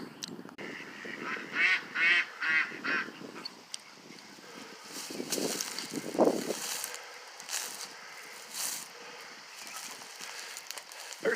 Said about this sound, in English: There are Canadian geese. There's ducks.